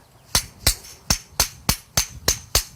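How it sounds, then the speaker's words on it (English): A hammer strikes a steel car body patch panel held against a dolly, giving eight sharp metallic blows at an even rhythm, close and loud with nothing else heard. "What I'll do is I'll just work it with the hammer and dolly."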